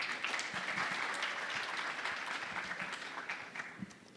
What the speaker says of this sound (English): So maybe a small round of applause for HBL as well.